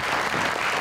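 Studio audience applause on a television talk show, a brief dense burst of clapping at steady loudness.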